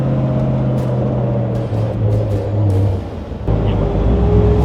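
A 1956 Chevrolet Bel Air convertible with a column-shift three-speed manual pulls away, its engine giving a steady close rumble that swells briefly as it accelerates, with no talking.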